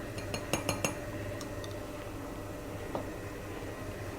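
Spoons give a few soft, quick clinks while spooning mozzarella fior di latte mousse infused with chorizo, then one lone clink later in a quiet room.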